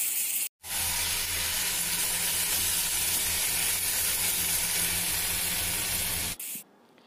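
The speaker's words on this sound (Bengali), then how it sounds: "তো এইভাবে নাড়াচাড়া করতে করতে করতে করতে অনেকটা সময় লেগে যায়" Mung dal mixture cooks and is stirred in a pan, producing a loud, continuous sizzle and hiss that cuts in abruptly and stops just as suddenly near the end.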